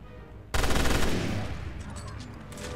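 Machine gun burst in Resident Evil Revelations 2 Raid Mode: after a quiet start, a loud rapid rattle of gunfire breaks out and sustains, slowly fading with scattered game effects trailing behind.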